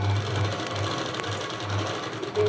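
A sewing machine stitches a dress top with a steady, close, whirring hum that pauses briefly now and then before running on, and no one speaks.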